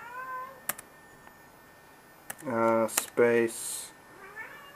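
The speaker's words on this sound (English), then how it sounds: "You can hear my cat is getting hungry" A hungry pet cat meowing close by, two loud drawn-out meows near the middle followed by a softer trailing cry, with someone speaking briefly and keyboard clicks around them.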